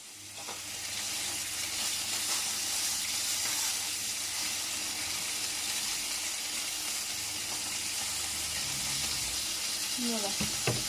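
Boudin blanc sausages fry in a pan with a steady close sizzle and hiss throughout. A few soft scrapes and clinks of the pan come near the end.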